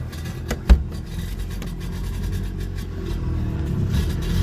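An old car's engine cranks and turns over on a cold start, a sharp thump early on, then a steady low churning rumble that builds slightly toward the end.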